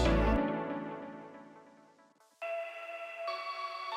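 A tweaked Diva synth preset in a modern dance/EDM breakdown sounds alone: a bright sustained chord fades out over two seconds, then a thinner, buzzy tone enters, shifting pitch partway through.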